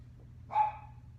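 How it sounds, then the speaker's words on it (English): A single short dog bark or yip sounds once from the background, fairly faint, over a low steady room hum with no talking. "Want that dog in the background?"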